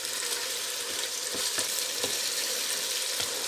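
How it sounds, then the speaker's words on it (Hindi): Minced meat keema frying in a pan, a continuous hissing sizzle with occasional stirring knocks, close and steady. "कीमे को हमने अच्छी तरह भूनना है ताकि इसकी जो स्मेल आती है वो चली जाए"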